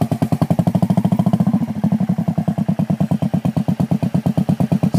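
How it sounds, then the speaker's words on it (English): A motorcycle engine being throttled while ridden slowly on grass, giving a loud, close, steady chugging pulse that quickens slightly partway through, with no talking. "More gas. More gas. More throttle."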